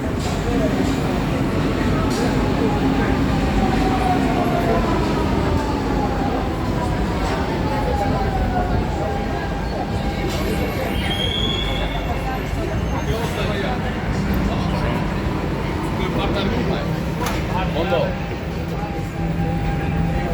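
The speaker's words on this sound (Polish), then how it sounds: "A tak wygląda pociąg metra." A Lisbon metro train at an underground station, a loud continuous rumble and hum of rolling carriages with squealing rail tones, under people talking nearby.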